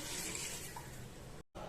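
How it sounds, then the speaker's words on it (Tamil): Water pours from a tap into a cooking pot holding goat leg paya with ginger garlic paste, a soft continuous gush that cuts off abruptly near the end. "பாயா வேகிறதுக்கு தண்ணி சேர்த்துக்கலாம்."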